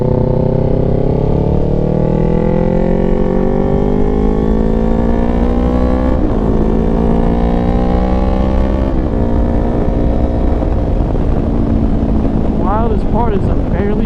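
A 600cc motorcycle engine at light throttle while riding, giving a steady low drone with slowly rising harmonics, wind buffeting over it, and a voice talking throughout.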